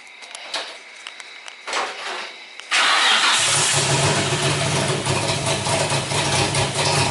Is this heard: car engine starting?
yes